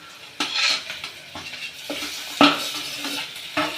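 Onions, green chillies and potatoes stir-frying in oil in a pan, with a spoon scraping and clanking against the metal in a few distinct strokes over a quiet, steady sizzle, close by.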